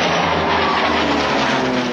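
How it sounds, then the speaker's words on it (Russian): A Messerschmitt Bf 109 fighter diving to attack gives a loud, dense, continuous engine roar with a rushing airflow sound. It is heard alone, without speech, probably in a staged wartime documentary reconstruction. "И тут сверху на него налетает Мессершмитт 109"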